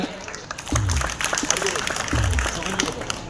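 Crowd applause at a Trinamool Congress victory rally in Barrackpore: dense clapping swells in two waves, under a loud amplified voice addressing the gathering.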